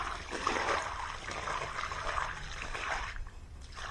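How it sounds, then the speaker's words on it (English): Water pours and trickles off a gold prospecting pan in a steady, close splashing stream lasting a few seconds, with no talking. "we're going to pour off the water."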